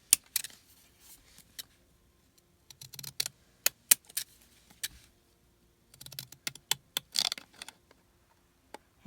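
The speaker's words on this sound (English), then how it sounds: "Now we can turn it into a large postage stamp by just cutting around the edge with our postage scissors." Small postage scissors snip around the edge of a paper stamp, producing clusters of quiet crisp cuts separated by pauses, close to the listener with no talking.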